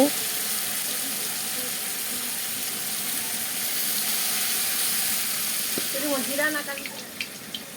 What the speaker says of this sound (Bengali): মাছগুলো ভাজা একটা পিট হয়ে গেল তারপর উল্টিয়ে দেওয়া হয়েছে